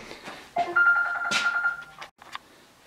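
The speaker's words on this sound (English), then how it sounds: "Phone was ringing" A telephone rings during a marine transducer installation, a steady electronic tone held for about a second over faint background noise, followed by a brief shorter burst.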